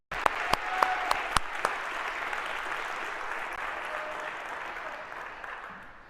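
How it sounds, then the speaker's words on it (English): A large audience in a lecture hall breaks into sustained applause for the course team, a few sharp claps standing out at the start before the dense clapping tapers off gradually. "If we could, a huge round of applause for everyone that makes this possible."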